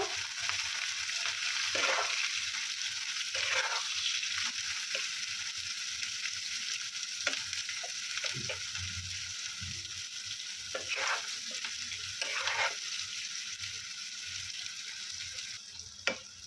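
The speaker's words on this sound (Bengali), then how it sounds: "পেঁয়াজটা আমি ভালোভাবে ভেজে নেব।" Chopped onions, four to five of them, fry in a pan of hot oil seasoned with whole garam masala, giving a steady sizzle with occasional stirring scrapes.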